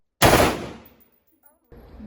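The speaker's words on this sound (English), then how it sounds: "It was so weird holding a gun, like real guns, and shooting." A real gun fired at a gun range: one loud, close, sharp blast that rings out and decays over about a second, followed by a brief quiet gap and another burst of noise.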